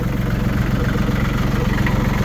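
A tractor engine idles steadily and loudly up close on a snowy day, a continuous low rumble with a dense, even throb and no change in speed throughout.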